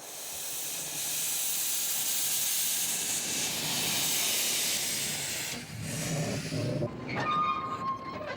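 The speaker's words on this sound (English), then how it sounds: "a trainload of picnickers seated in open trucks pulled noisily out of Broken Hill" A steam train carrying picnickers in open trucks pulls noisily out of Broken Hill, with a loud, steady hiss of steam that gives way to clanking and squealing wheels as it moves off.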